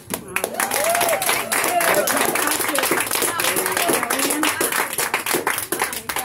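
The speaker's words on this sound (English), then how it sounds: "We need to really give a round of applause to Kevin and Lisa." Outdoor crowd at a camper rally breaks into a round of applause, close, loud clapping mixed with cheers and scattered voices talking over it for several seconds.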